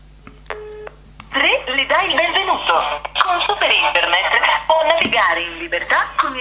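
A Sony Xperia Miro places a phone call: a short series of keypad dialing beeps plays close by, then a recorded carrier voice message takes over and runs to the end.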